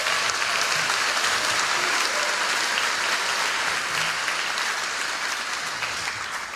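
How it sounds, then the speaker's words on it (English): A graduation commencement audience applauds steadily in a large hall, a dense wash of many hands clapping at an even level before tapering slightly toward the end, with no talk over it. "Round of applause for Miss Ireland."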